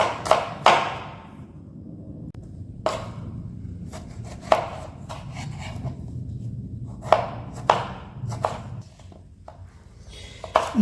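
A knife chops through vegetables on a cutting board in a Kerala kitchen. The strikes land as separate, crisp knocks at an irregular pace with quiet gaps between them, and nobody speaks.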